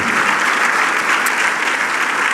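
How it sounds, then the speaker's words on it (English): Audience applause at the Toronto Global Forum 2019 for the young volunteers helping with the event: dense, steady clapping from a crowd, loud and sustained throughout without pause. "Big round of applause for all the young people that you see around helping us with the forum"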